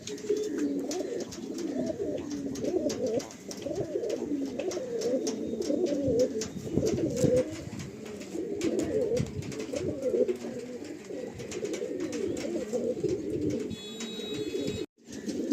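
Tournament-quality pigeons, including black birds, coo continuously in a low, throaty, rolling chorus. Several birds overlap at close range with no talking, and a brief drop-out comes near the end.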